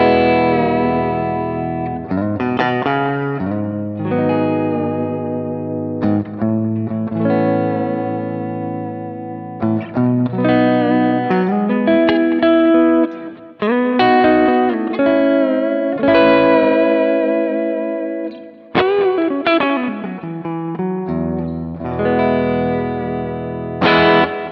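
Electric guitar through a Kemper, neck humbucker, plays clean chords and melodic runs, each note trailing into a wide hall reverb with repeating eighth-note delay echoes, continuous and fairly loud.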